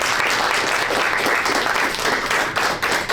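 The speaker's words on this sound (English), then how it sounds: "A big round of applause to all of you." A crowd at a community food-program event breaks into applause, a dense, loud wash of many hands clapping that holds steady for the full few seconds with no pause.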